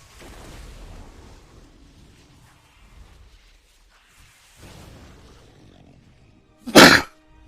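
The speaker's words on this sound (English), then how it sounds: "You ever sneeze so hard you mash all the buttons?" After some quiet, muffled background noise, a single sharp, loud sneeze bursts out close to the microphone near the end.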